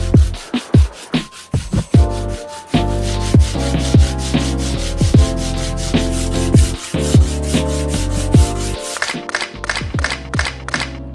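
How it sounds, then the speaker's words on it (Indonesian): Rhythmic scraping of sandpaper rubbed over wood, quick repeated strokes, close up and fairly loud, with a few light taps. "Kemudian amplas lagi kayunya."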